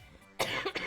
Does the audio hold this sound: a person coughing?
yes